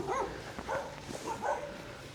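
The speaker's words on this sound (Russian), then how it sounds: "местные собачки" Local dogs bark in a residential courtyard, a few faint, distant yelps spread across the moment over quiet outdoor ambience.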